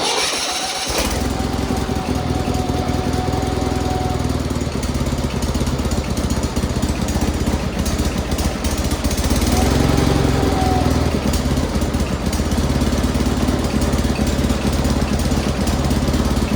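A small tractor's engine runs steadily throughout, a loud, continuous mechanical drone close by with a brief whine rising at the start and again midway.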